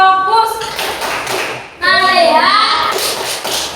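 Schoolchildren in a classroom doing a rhythmic focus clap, sharp hand claps and taps ringing out in a pattern while young voices chant loudly along with them, fairly close and lively.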